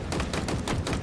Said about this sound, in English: I am just getting annihilated by that sniper